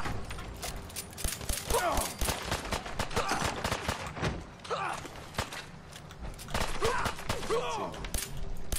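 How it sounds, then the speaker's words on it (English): Bursts of gunfire in the video game Fallout 4, rapid rattling shots in several clusters with mechanical clanks and footsteps, while a voice talks over parts of the action. "Are you shooting?"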